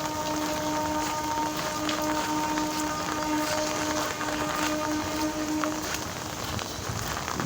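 Monsoon rain pours down steadily onto surfaces nearby, a dense continuous hiss of drops with no pauses and no voices.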